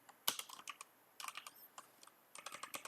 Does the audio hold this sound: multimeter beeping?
no